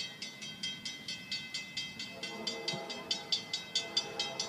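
Freight train rolling past in Ybor City, Florida, with a steady rhythmic clatter of wheels over rail joints repeating about three times a second, fairly close and loud with no voices.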